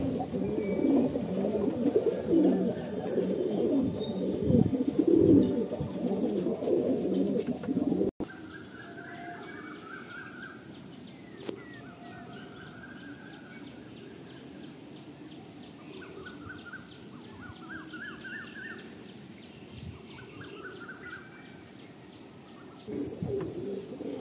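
Andhra line pigeons in a loft, soft repeated cooing phrases heard in the middle stretch at moderate distance, after a louder burst of low muffled handling noise at the start, with faint chirps in the background.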